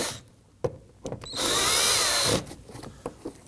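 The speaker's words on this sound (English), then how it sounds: "You can use a Phillips head screwdriver or a power tool." A power tool whirs in a short, steady burst of about a second as it loosens 10mm screws on a Nissan Murano front door panel, with light clicks and handling noises before and after.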